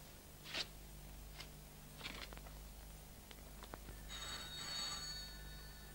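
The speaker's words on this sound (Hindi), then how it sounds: "माँ पिताजी का टेलीफोन है" Telephone bell from a 1940s Indian film scene, a few short ringing bursts near the start and again toward the end, faint and slightly hissy over a steady low hum, with no voices.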